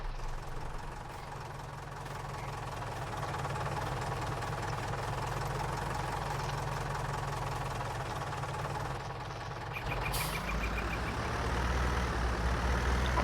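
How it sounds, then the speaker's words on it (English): Farming Simulator 19 tractor engine idling with a steady low, rough rumble that dips and changes tone near the end as it bogs down. "it occasionally will bog down when it's idling"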